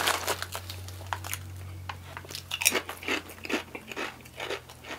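Kettle cooked potato chips are bitten and chewed close to the mouth, with irregular crisp crunches and softer chewing over a low background hum, and no talking.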